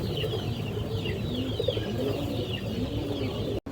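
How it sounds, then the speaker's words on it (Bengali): Black-necked pigeons cooing softly in a coop, low rolling coos with faint higher chirps from other birds behind, steady and close. "এবার এক জোড়া কালো গলা কবুতর"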